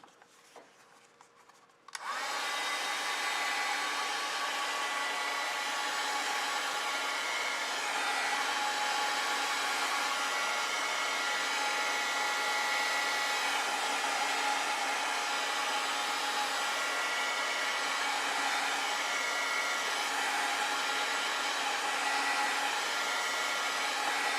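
A hair dryer blowing on wet acrylic paint switches on after a quiet moment and keeps a steady, loud, airy whir close by, with no voices.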